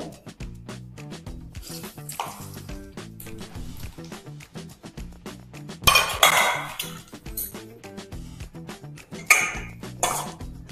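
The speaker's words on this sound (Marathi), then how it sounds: "चमच्याने मिक्स करून घेऊ सगळं" A metal spoon stirs a tadka tempering into dadpe poha in a pan, with repeated clinks and scrapes against the metal in an uneven rhythm and a few louder clatters, close by and without speech.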